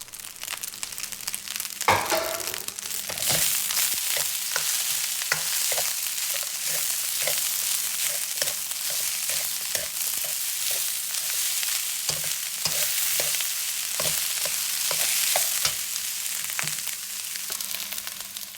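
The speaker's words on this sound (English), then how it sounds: "Add the carrots and the peas and stir fry for about 2 minutes." Carrots and peas stir-fried into spam fried rice, a steady loud sizzle with repeated scraping and tossing of a spatula against the pan, heard close and alone throughout.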